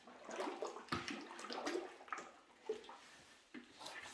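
Wet ceramic glaze sloshes and swirls as it is stirred in a bucket, a soft, close, liquid churning with irregular splashy pulses and no talking.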